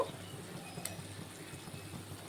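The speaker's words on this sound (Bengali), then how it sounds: "তরকারির ঝোলটা ফুটে গেছে, এখন আমি মাছগুলি দিয়ে দেব।" Curry gravy with fish bubbles softly in a pan, a faint steady simmer with small pops and no talking.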